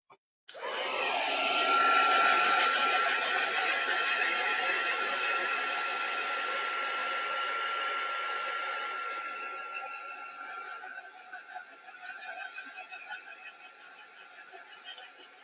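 A hair dryer switches on and blows continuously for about fifteen seconds, a loud, steady airy roar with a constant whine that slowly thins out toward the end, with no voices.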